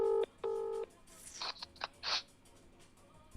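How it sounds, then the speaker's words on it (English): A phone on loudspeaker gives two ringing tones, then a string of faint beeps and clicks follows in a quiet room. "It's ringing."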